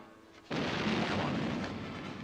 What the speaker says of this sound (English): It's the fireworks.